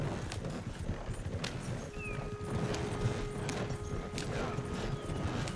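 A horse-drawn cart clip-clops along in Red Dead Redemption 2, steady hoofbeats close by under a low rolling rumble, with a brief high whistle-like tone partway through.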